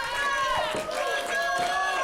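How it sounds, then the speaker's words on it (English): Pro wrestling crowd in an arena roaring and cheering steadily throughout, with shouts and whistles rising over a dense wash of voices at a loud, sustained level. "Crowd loving it."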